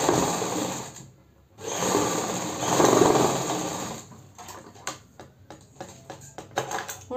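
A sewing machine stitches the fitting seam on a ladies' Punjabi suit, whirring loudly in long runs that stop and start, then gives way to lighter clicks and mechanical ticks nearby.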